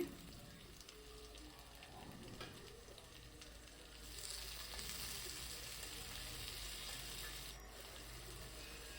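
Onion and tomato fry in a pan for capsicum rice, a soft, low sizzle with faint stirring scrapes that grows slightly louder partway through, with no voices.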